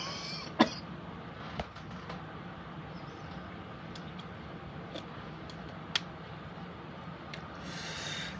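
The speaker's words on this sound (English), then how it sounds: "I got some nagging cough that just doesn't want to go away." A person with a nagging cough gives a few short, faint coughs or throat clears spaced several seconds apart over a steady low background hum.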